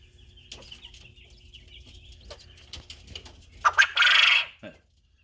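Coturnix quail calling inside an indoor quail cabinet: faint chirps and clucks build to a loud, shrill burst near the end, with no talking.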